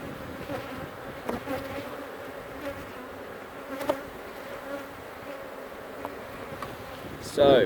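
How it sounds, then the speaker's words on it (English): Steady, dense buzzing of many honey bees swarming close by at an open hive, a continuous drone with occasional louder passes near the end. "so many bees"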